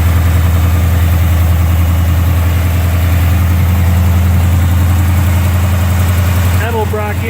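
A 1963 Chevy C-10 shortbox pickup with Edelbrock intake, single-feed carburetor with electric choke and headers idles steadily and loud, a deep even rumble up close, with a voice speaking over it near the end.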